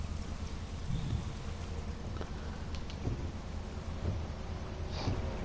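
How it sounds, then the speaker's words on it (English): Steady rain in the racing game The Crew 2, heard from first-person view inside a muscle car hot rod with windscreen wipers: a constant broadband hiss and patter with a few faint ticks, no talking. "the rain effect when you go in first person in this is actually quite realistic"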